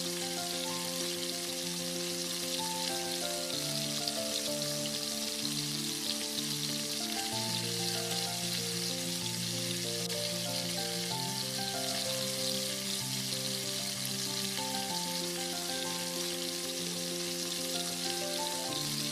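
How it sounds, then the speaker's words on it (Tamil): Chicken 65 pieces deep-frying in hot oil in a pan, a steady, dense sizzle and bubbling crackle that runs unbroken throughout, close and fairly loud, with no talking. "மிக்ஸ் பண்ணி வச்சிருக்கிற சிக்கனை எடுத்து ஒன்று தனித்தனியாக பேனில் நல்லா ஃப்ரை பண்ணி எடுக்கணும்"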